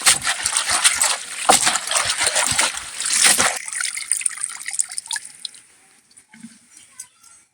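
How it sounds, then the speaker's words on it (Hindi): Fresh leafy saag greens are washed by hand in water, with splashing and dripping that stay busy for about three seconds, then taper into sparse, quieter drips and small splashes. "अब इसको अच्छे से धो लेते हैं पानी में"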